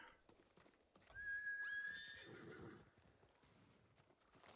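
A horse named Kage in a video game gives a sharp, rising whinny mid-clip, followed by soft clip-clop of hooves and light ambient background, with no talking.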